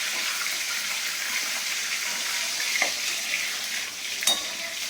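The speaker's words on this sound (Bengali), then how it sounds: "ছাঁকা তেলে ভাজতে হয়, নাহলে মাছ ভালো হয় না" Fish frying in deep oil in a home kitchen: a steady, airy sizzle runs throughout, close and moderately loud, with a couple of brief clinks or pops near the end and no talking.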